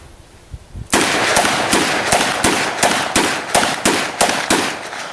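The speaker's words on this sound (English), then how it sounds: "Shooting them both in double action," Two guns fired together in double action, a loud, rapid string of about ten sharp cracks at an even pace after a brief quiet start, each shot ringing into the next.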